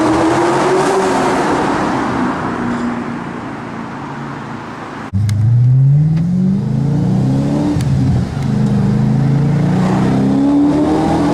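An Audi RS4 B7 saloon with a 4.2-litre V8 revs hard, close and loud, its pitch sweeping up and down through repeated throttle blips with a deep, rumbling exhaust note and a brief dip between pulls.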